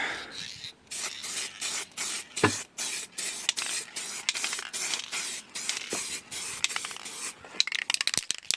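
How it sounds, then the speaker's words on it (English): Clear coat hisses from a spray gun onto Toyota Mk2 Supra engine parts and cam covers, in a series of short, evenly spaced bursts with brief pauses between them. "Now the clear coat to go on."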